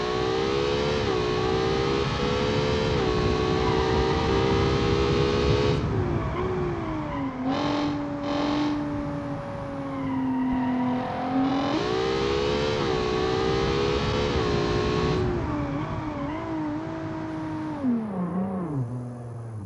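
A race car engine in BeamNG revving hard and steadily, its pitch dipping and climbing again through gear changes over sustained loud acceleration, with no talk.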